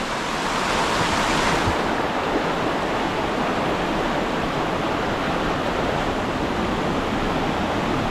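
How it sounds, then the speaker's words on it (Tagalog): Strong floodwater rushing in a steady, loud, broadband roar, continuous and close throughout with no voices. "Ang lakas pala ng baha dito."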